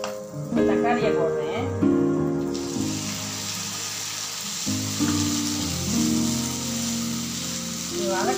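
Tomatoes sautéing in a pan for paneer butter masala give a steady sizzle and frying hiss with occasional stirring scrapes, running continuously under a pitched tonal background.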